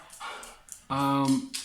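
A dog barks in a home setting, a couple of short loud harmonic barks close by, with a person's voice speaking around them.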